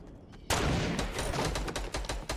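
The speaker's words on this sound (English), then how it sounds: "I hear shots" Gunshots in the Fortnite video game, a sudden burst of rapid automatic fire breaking in after a quiet moment and continuing in quick cracking volleys.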